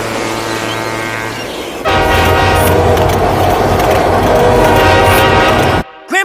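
A New York City subway train rumbles loudly, its steady roar stepping up into a harsher rolling clatter with wheel screech and tonal whine, then cutting off abruptly near the end.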